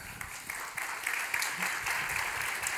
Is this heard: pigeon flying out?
no